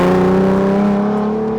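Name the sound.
2001 Lamborghini Diablo 6.0 engine revving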